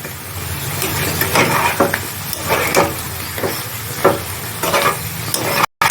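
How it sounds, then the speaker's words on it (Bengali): Drumstick pieces and potato with poppy seeds cooking in a pan, stirred in a run of loud scraping strokes over a constant sizzle. "পোস্ত দিয়ে সজনে ডাঁটা আলু কষানো হয়ে গেছে।"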